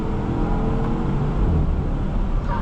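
A 2012 Porsche Cayenne Turbo accelerates hard, its engine giving a loud, steady low roar that holds for the whole stretch, heard from inside the cabin with no talking.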